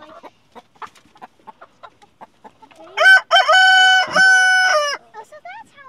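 A rooster crows loudly and close by, one long drawn-out call with a short break in the middle. Brief clucks and scattered bird noises come before it, and light chatter from people is heard under and around the crow.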